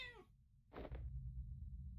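A cat in the video game Impostor Factory gives a single short, plaintive meow, close and clear over a soft low hum.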